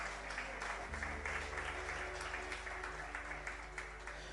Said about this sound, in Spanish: Dale un fuerte aplauso al Señor si quieres hacerlo.